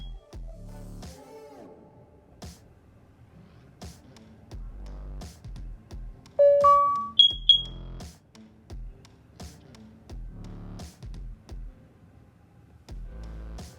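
A Nest Protect battery-operated smoke and carbon monoxide alarm running its self-test, giving a few short clear electronic tones in the middle of an otherwise quiet stretch with faint clicks and background noise.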